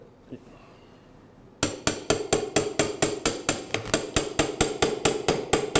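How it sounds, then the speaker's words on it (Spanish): Sharp metallic hammer strikes on a surgical bone punch in a shoulder-model workshop ring out in a steady rapid series after a quiet start, loud and close, each blow bright and clinking. "Con un punzón previo, que el ayudante te martillea."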